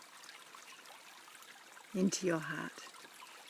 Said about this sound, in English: the water's flowing around either side of me